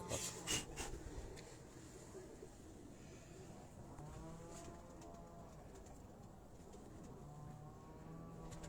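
Pigeons cooing on a rooftop, a soft rolling coo repeating at moderate distance under steady outdoor background noise, with a couple of louder knocks near the start.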